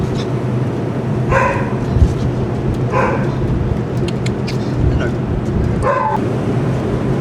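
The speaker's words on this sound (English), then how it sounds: "You hear some of the barking from the kennels." Several dogs bark intermittently from kennels at a distance, a few sharp barks spread out over steady background noise.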